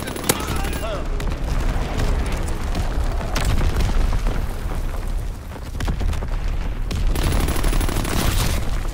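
An artillery battery fires in the World War II video game Call of Duty: WWII, with dense booming blasts and crackling gunfire layered into a continuous loud barrage.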